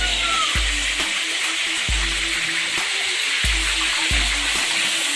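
Pork back fat skin for chicharon hits hot oil in a large kawa wok, giving a steady loud sizzle with repeated low thumps and clanks as pieces are added and stirred.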